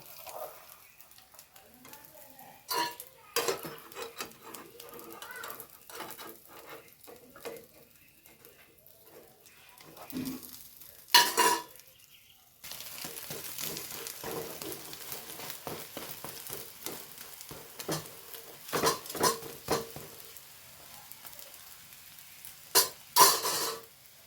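A fish and egg omelette in a frying pan gets turned over: soft scrapes, light sizzling and intermittent spatula clatter against the pan come in short bursts, close by, between quiet pauses.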